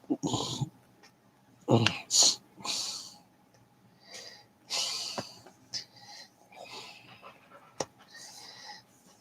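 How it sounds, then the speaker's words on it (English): A dog outside an RV gripes in irregular bursts of snorts, wheezy grumbles and short huffs at middle distance, separated by quiet gaps. "My dog's outside griping."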